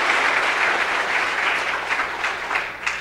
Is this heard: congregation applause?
yes